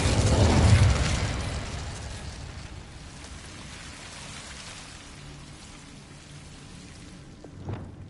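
Incendio fire spell cast in Hogwarts Legacy on PS5: a loud whooshing, crackling burst in the first second that fades into a steady rain-like hiss, with a brief sharp flare near the end.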